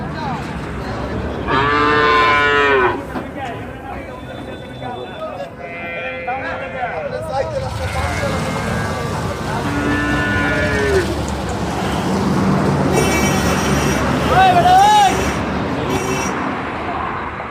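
Cattle moo repeatedly in long, loud calls at a busy cattle market, some near and some farther off, with higher goat bleats and crowd chatter throughout.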